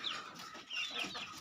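Young chickens kept for sale clucking nearby in a rural yard, a few short bursts of clucks coming close together with no talk.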